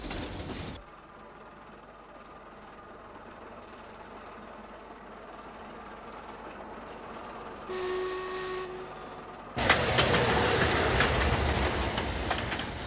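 An oil-fired steam train on the Ffestiniog Railway runs with a steady low rumble, joined by a brief tonal whine near the middle, and then a sudden loud surge of rushing, hissing noise that fills the rest of the clip.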